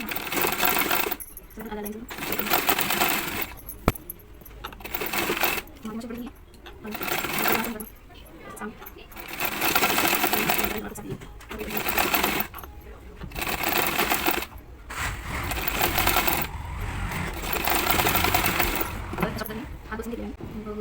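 Sewing machine top-stitching a sleeve onto a readymade top, running in repeated bursts of steady whirring separated by short pauses, loud and close throughout.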